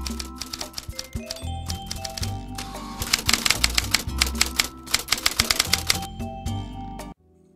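Rapid, uneven keystrokes and clacks from a vintage typewriter, up close and alone, continuing for about seven seconds before stopping suddenly into near silence.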